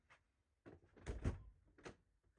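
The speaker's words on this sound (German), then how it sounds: "Ja, die Tür geht auf." The door of an Ilyushin Il-14P aircraft is pushed open with a couple of dull thunks and a rattling clatter, close by, followed by a quieter knock.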